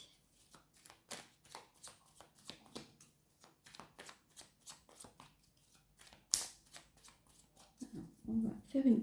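Tarot cards are shuffled and cut close by, giving a rapid run of crisp riffling snaps that ends in a louder slap, with a voice speaking over part of it.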